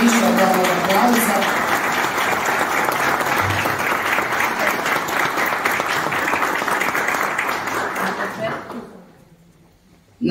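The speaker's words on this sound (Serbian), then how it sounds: "Zaslužuje više od ovog aplauza." Audience at a book launch applauds steadily, a dense and even wash of clapping that holds for several seconds, then thins and dies away into near silence before a brief sound at the end.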